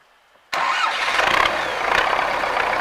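A car engine cranks and catches after silence on a cold winter morning below freezing, then settles into a loud, steady idle with slight revving, close by and without talk.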